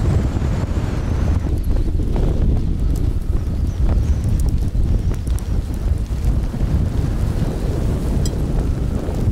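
Strong wind roars across a winter mountainside in the Scottish Highlands, buffeting the microphone with a constant, loud, rumbling rush and gusting flutter throughout, with no talking.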